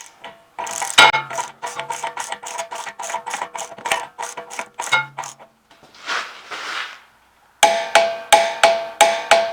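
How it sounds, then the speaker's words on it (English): A torque wrench clicks while tightening on a 2017 Ford Escape rear wheel hub, a series of sharp, close, evenly spaced ratcheting clicks in runs separated by short pauses. "so I can torque it down with the torque wrench"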